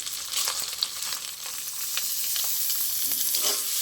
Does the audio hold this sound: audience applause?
no